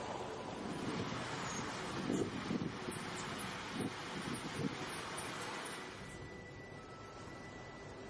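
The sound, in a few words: wind blowing by the sea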